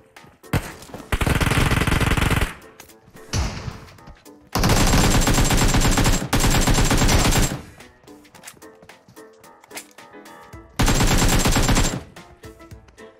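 Automatic AK rifle gunfire in a video game comes in three long, loud sustained bursts separated by quieter gaps that carry scattered shots and game sounds.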